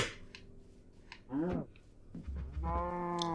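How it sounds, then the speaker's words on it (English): In Minecraft, a cow makes short, pitched, bleating hurt cries and a moo as it is attacked, with brief game sounds in between at moderate volume. "Why are you killing the cow?"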